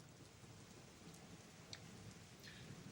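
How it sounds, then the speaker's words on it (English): Steady soft rain hiss in the Suikoden video game, quiet and continuous with a few faint higher ticks of drops scattered through, no voices. "It won't stop raining."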